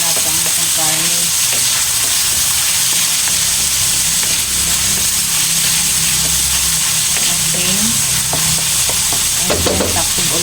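Meat fries in a pan with a loud, dense, continuous sizzle and crackle close to the microphone, occasional faint scraping of stirring running underneath throughout.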